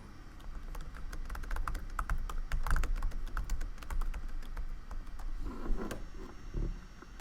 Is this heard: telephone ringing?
no